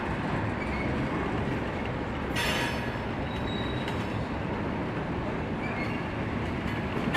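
A long freight train of tanker and hopper cars rolls steadily past in Kansas City, its wheels rumbling continuously with occasional squeals and clicks over the rails.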